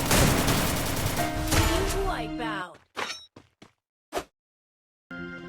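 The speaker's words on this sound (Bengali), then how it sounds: "ওটাকে একটা হকার শট দিয়ে দেই" Gunfire from a shooting video game in the Free Fire style, with dense, loud bursts of shots over busy game noise for about two and a half seconds, followed by a few isolated sharp shots separated by silence.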